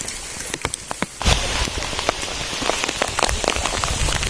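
Steady rain pattering on a rice field during sowing, with scattered sharper drops; it swells louder after the first second and continues as a dense, close wash.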